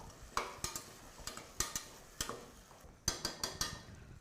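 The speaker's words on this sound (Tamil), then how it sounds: "இதையும் போட்டு வதக்கலாம்." Boneless minced chicken sizzling in a pan with repeated scraping and stirring clicks from a utensil, irregular taps over a soft frying hiss, close by.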